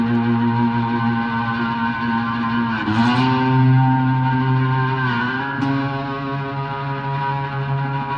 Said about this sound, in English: I do have a lot of distortion on the amp.